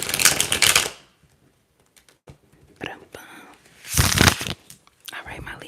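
Tarot cards being shuffled during a close-up ASMR reading, giving two bursts of dense riffling with soft crisp taps and rustles between them.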